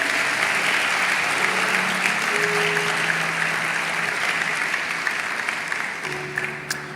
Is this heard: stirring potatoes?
no